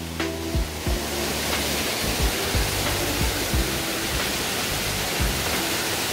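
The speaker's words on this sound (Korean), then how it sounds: "그 아래로 이렇게 물이 흐르고요." Huibang Waterfall in the Sobaeksan mountains near Yeongju, Korea, pours down with a steady, broadband rushing roar of falling water, close and continuous with no voices, punctuated by a few faint low thumps.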